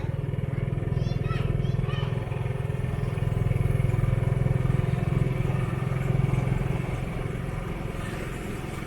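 A motorbike or scooter rides out of a town in Vietnam, its steady engine drone and road rumble loud and continuous, with wind buffeting throughout.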